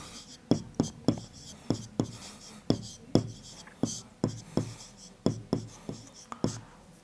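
Chalk tapping and scraping on a classroom board as a teacher writes during a Class 6 geometry lesson on circles, a steady run of short, crisp strokes in quick bursts, close and fairly loud, with no talk over it.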